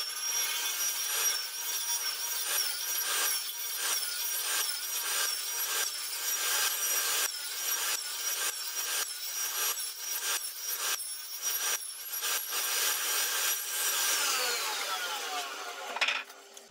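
A table saw cuts tenons on a wooden barn door rail, a steady high whine with rasping wood noise running continuously for about sixteen seconds before stopping abruptly near the end; no voices.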